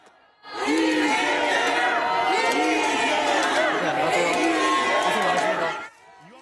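Supporters outside a courthouse cheer and shout as Lee Jae-myung leaves after a trial, a loud, dense roar of mixed voices that starts abruptly and holds steady for several seconds before cutting off.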